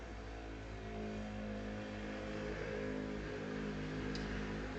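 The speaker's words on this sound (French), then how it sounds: "Petite moto qui passe, qui avance pas bien vite." A small motorcycle moves by slowly, a steady mid-pitched engine drone with a faint rising rev, heard from a moderate distance with no talk.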